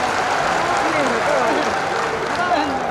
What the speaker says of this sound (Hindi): ताली जोर से बजा के स्वागत करें।